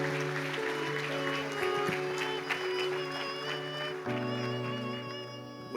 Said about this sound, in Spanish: Así que llamo con un fuerte aplauso